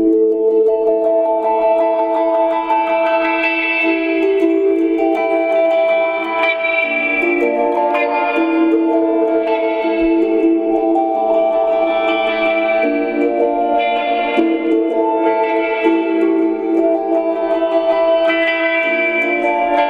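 Electric guitar played through effects with a weird echoey ring from the pickup, sustained chords washing continuously with reverb, chorus and light distortion, loud and steady throughout.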